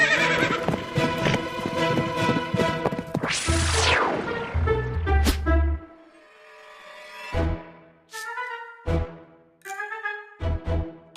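Horses race in a chariot contest, with a dense drum of galloping hooves followed by several loud, close neighs and whinnies separated by short pauses.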